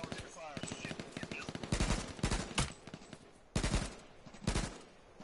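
Gunfire in the H1Z1 survival shooter game rings out in rapid automatic bursts and clusters of sharp shots, some close and loud, others fainter, with brief pauses between volleys.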